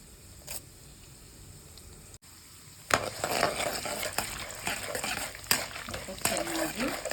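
Chana dal and urad dal frying in a pan, as for gojjavalakki: after a quiet start and a sharp click, a steady crackling sizzle rises and keeps up with scattered pops.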